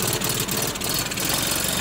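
A beat-up ATV quad with a snorkel kit fitted idles steadily and fairly loud nearby, its low engine rumble continuous throughout with no one talking.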